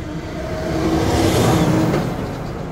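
Road traffic at a construction stop where an asphalt crew's trucks move equipment around, heard as a steady broadband vehicle rumble that swells to a peak midway and eases off, with no talking.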